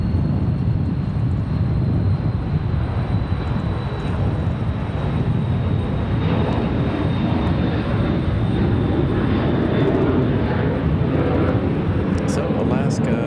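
Alaska Airlines airliner landing at Raleigh-Durham International airport in strong, gusty wind, a steady broadband jet roar filling the whole stretch at constant loudness, heard from the ground.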